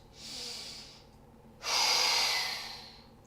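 Two close breaths during a core exercise, a soft breath followed by a longer, stronger forceful exhale through the mouth, with no talking.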